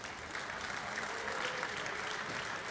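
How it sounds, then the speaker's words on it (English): Steady audience applause at a Turkish Airlines EuroLeague awards ceremony, fairly faint and even, a continuous patter of clapping hands without a break. "And with a big and warm applause, we thank Mr. Vujicic and Mr. Ibrahim Kutluay."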